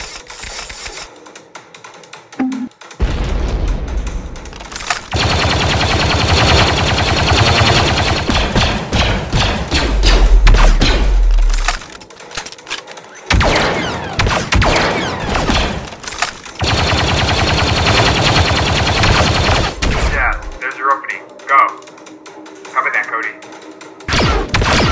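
Blaster gunfire in a Lego Star Wars Clone Wars stop-motion battle, loud rapid bursts of repeated shots in long volleys with short pauses between, mixed with shouting voices and battle effects.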